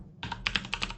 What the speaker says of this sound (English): Type the wrong username.